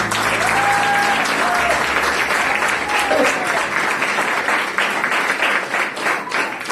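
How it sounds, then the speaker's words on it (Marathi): A church congregation applauding loudly, dense sustained clapping filling the room for several seconds, with a faint voice briefly audible beneath it. "त्याच्यासाठी आपण जोरात टाळी वाजवूया."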